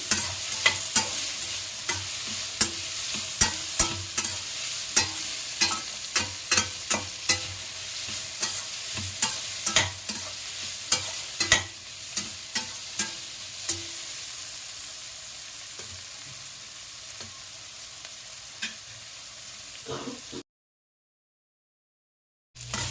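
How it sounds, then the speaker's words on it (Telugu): Capsicum and tomato sautéing and softening in a pan for capsicum rice, with steady close frying sizzle and repeated sharp stirring scrapes from a spatula, no voices, ending in a short silence. "ఇది కూడా మగ్గనివ్వాలి ఫైవ్ మినిట్స్ పట్టిద్దండి క్యాప్సికమ్ టమాటా మగ్గటాకి"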